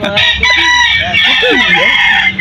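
A rooster crows loudly and close by, its long rising and falling call carrying over some clucking and faint background noise.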